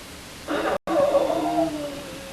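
A person's voice imitates a cat's meow, giving a single drawn-out, breathy, falling cry of about two seconds, close and alone with a brief cut near the start.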